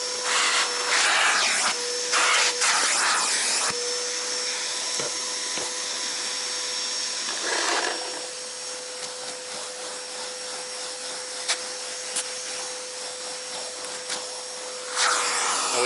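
A shop vac cleaning the interior of a Mustang GT California Special, a constant whining drone with a steady tone, rising into louder rushing bursts as the nozzle sucks at surfaces and carpet, ending on another surge.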